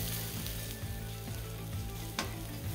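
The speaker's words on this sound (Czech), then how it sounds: "Do másla přidám šalotky. Hezky to zamíchám." Shallots sizzle steadily in butter and meat juices in a pan after a steak is cooked, a constant frying hiss with faint stirring clinks, no talking.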